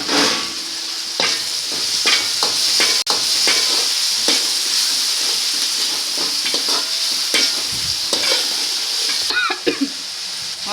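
Potatoes, tomato, curry leaves, chili and ginger being stirred in a frying pan, with loud sizzling and a series of close spatula scrapes and clanks against the pan.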